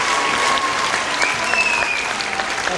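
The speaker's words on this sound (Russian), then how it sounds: "Аплодисменти Віталія Малько." Dense, steady applause from an audience at a Belarusian acrobatics show on a trampoline, many hands clapping together at an even loudness throughout with no voices standing out.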